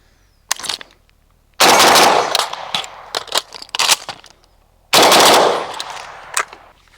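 Rifle gunfire on a range during a reload and transition drill: a lone shot, then a dense rapid burst, scattered sharp cracks, and a second long burst, loud and close with brief pauses between strings.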